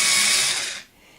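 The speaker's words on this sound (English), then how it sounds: "the hand drill will go" Hand drill boring through a fairly hard wood while making wooden dolls, heard as a short, bright, grinding whir close by that fades away after under a second.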